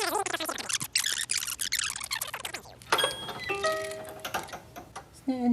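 A Victorian music box in a wooden case plays a bright plucked-comb tune, loud and close, with clear sustained tones in the second half and talk over parts of it.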